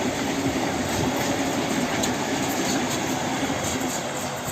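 An ED250 Express Intercity Premium train rushes past at speed, making a continuous loud roar with faint wheel clatter that fills the whole stretch evenly, with no voices.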